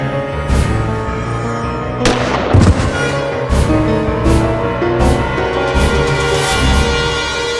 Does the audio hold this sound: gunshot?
yes